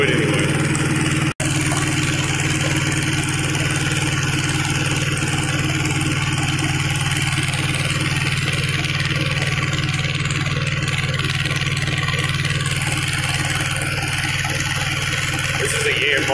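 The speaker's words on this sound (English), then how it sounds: "YM2000 two-wheel drive tractor." A Yanmar YM2000 two-wheel-drive tractor with a 24-horsepower two-cylinder diesel engine idles steadily nearby, a constant low throbbing hum that holds unchanged for the whole stretch apart from one brief click.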